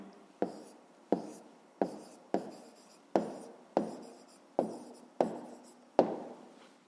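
Pen or pencil writing an answer by hand on paper: nine quick scratchy strokes at a steady rhythm, each a short sharp onset fading out, close and fairly quiet with no talk.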